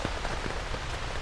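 Heavy rain drums on a camping tent, a dense, steady, loud patter of drops with no pauses.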